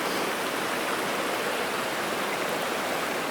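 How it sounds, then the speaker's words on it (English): A creek near the Clearwater River in Idaho, at a crossing into a camp, rushes steadily with an even, close hiss of flowing water. "This is the creek where we crossed to get into camp."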